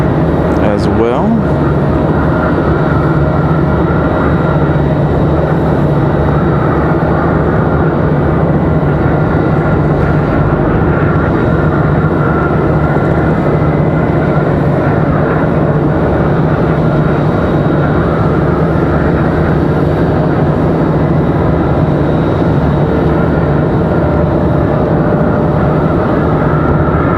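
Commercial airliner arriving at Raleigh-Durham International Airport from Miami, a steady loud broadband engine roar that holds throughout with a low droning hum, continuous and close without clear rise or fade.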